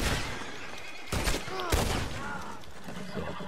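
A few sharp gunshots ring out in the western game Red Dead Redemption 2 Online, heard fairly faintly over a constant noisy background, with two distinct cracks about half a second apart.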